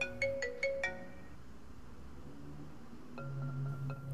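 A mobile phone rings with an incoming call from a father, a melodic electronic ringtone that plays a short phrase, fades, then returns with a repeating tune over a faint hum.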